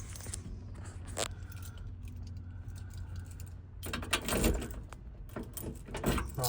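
Car keys jangling and clicking close by during a vehicle kill switch install, light metallic rattles with a few sharper jingles and scrapes in a quiet interior.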